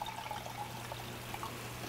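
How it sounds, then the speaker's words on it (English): Coconut juice pours into a soup pot for Vietnamese canh chua, a soft continuous trickle and splash heard faintly and alone over a steady low hum. "So add a cup of coconut juice."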